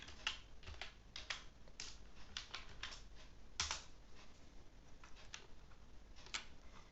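Keys clatter on a computer keyboard while someone types in MS Word: close, quick, irregular keystrokes with a few louder taps, and no voices.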